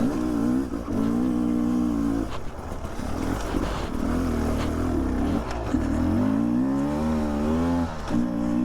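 A Beta 300 RR two-stroke dirt bike engine chugs steadily in second gear at low revs, a loud, continuous throbbing with slight rises and dips in pitch, no talk over it.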